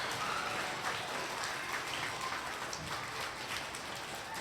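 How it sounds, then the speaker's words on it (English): An audience at an elementary school awards ceremony gives a steady round of applause, a continuous even wash of many hands clapping at moderate distance with no talk over it. "All right, big round of applause"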